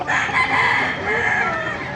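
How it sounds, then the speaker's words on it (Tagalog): At a poultry market in Baliuag, chickens cluck and a rooster crows loudly and close, a continuous layered burst of fowl calls filling the whole moment. "maganda ng mga manok dito mga kamas"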